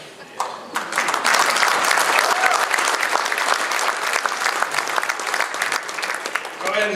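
Banquet audience applauding, a dense burst of many hands clapping that swells quickly, holds loud and steady for several seconds, then thins slightly toward the end.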